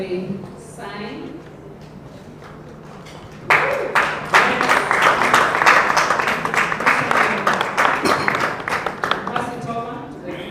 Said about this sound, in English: And let's clap as they sign.